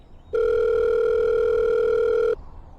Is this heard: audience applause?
no